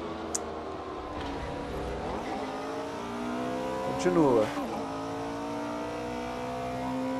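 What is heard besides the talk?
Porsche race car engine revving in Assetto Corsa video game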